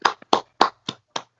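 Clapping for the NHS: five sharp, evenly spaced hand claps close to the mic, each followed by brief silence, with no voices.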